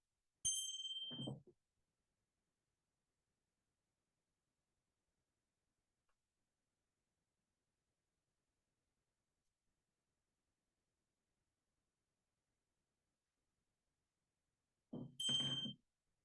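Meditation bell struck twice, each a bright metallic ding with a short ringing tail, the strikes separated by about fourteen seconds of near silence.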